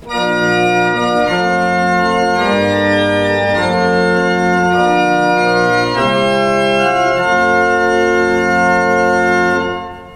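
Sustained chords on the Willis pipe organ of Maitland Uniting Church, principal stops with super octave coupler adding bright, high octave-doubled pitches above, moving slowly through several changes and holding steady, loud and full.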